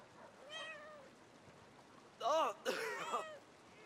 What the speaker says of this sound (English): Yes, you can play with cats.